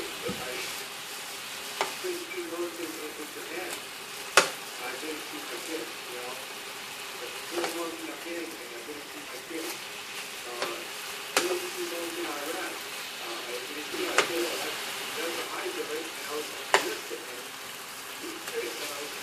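Bacon-wrapped chicken pan-searing uncovered in a frying pan: a soft, continuous crackling sizzle with scattered sharp pops and occasional clatters, steady and moderately close throughout.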